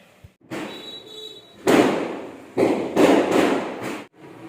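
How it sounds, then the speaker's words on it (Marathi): Diwali firecrackers bursting outside during Laxmi Pujan night: a dense series of loud cracking bangs and rumbling bursts, several heavy blasts in quick succession with crackling in between, fairly close. "फटाक्यांचा आवाज येत आहे आणि खूप फटाके फुटत आहे बाहेर"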